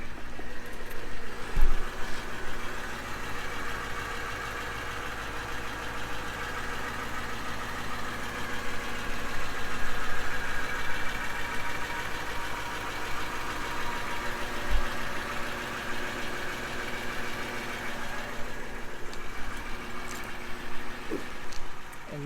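A 2021 Toyota Land Cruiser Heritage Edition idles steadily for a long stretch, its engine a continuous low hum with a faint mechanical clatter and no voices.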